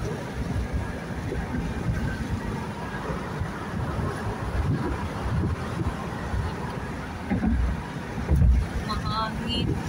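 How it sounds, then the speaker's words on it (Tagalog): Wind gusts steadily outdoors on a street in Beirut near Dora, a continuous low rumbling buffet across the mic with a couple of stronger bursts near the end. "Mahangin."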